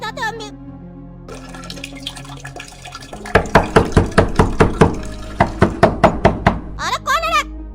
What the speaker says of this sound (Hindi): कौन दरवाजा पीट रहा?